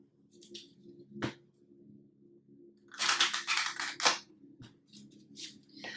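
Tarot cards riffle and slap together in a brief crisp burst, with a few softer taps and flicks before and after over a low steady hum.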